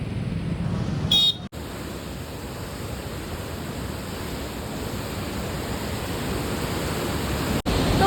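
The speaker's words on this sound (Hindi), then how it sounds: "तो पानी की आवाज़ कितनी तेज आ रही है ना गाइस।" Loud, steady roar of rushing water along the road trip from India into Nepal, a dense unbroken wash of noise with a brief sharp rattle near the start and no voices over it.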